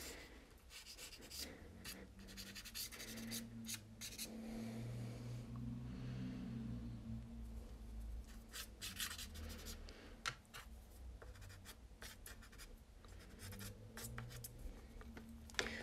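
Soft pastel crayon dragged across paper while drawing tulips and shaded leaves, partly with the crayon's edge: a steady, close, dry scratching and rubbing that runs in continuous strokes.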